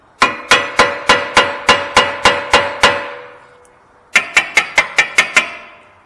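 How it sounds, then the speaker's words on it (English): Hammer taps on a Subaru Forester brake rotor being seated during lower control arm work: a steady run of about ten sharp metallic knocks, a pause, then a quicker burst of seven more, close and loud. "Now when I get it up in there, I'll just tap the corner of the rotor."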